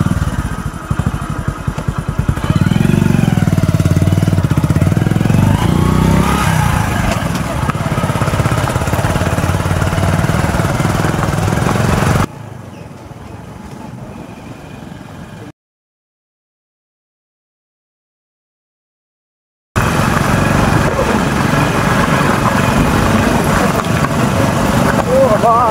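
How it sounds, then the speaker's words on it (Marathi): Motorbike ride with friends on the way to Dahi Handi practice, a steady loud engine drone with wind rumble through most of the stretch, dropping away briefly to a quiet gap and a silent pause before the engine noise returns; voices talk over it. "याची बाईक घेऊन जाणार आम्ही यासोबत दहीहंडीच्या प्रॅक्टिसला"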